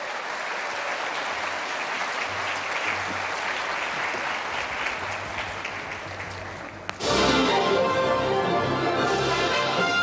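A church congregation at a Christmas worship service applauds steadily, a dense wash of clapping that swells sharply louder and brighter about two-thirds through and holds to the end.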